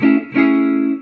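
An overdriven electric guitar rings out two loud, buzzy sustained notes, the second held for nearly a second.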